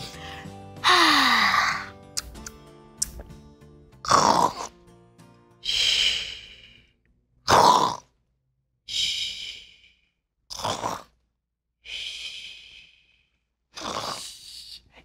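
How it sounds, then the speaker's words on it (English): A cartoon character snores in a slow repeating cycle, long drawn-out rasping breaths alternating with whistling exhales, loud and close with gaps of quiet between each breath. "It sounds like she's snoring."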